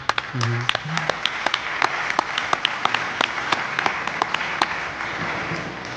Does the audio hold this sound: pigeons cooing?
no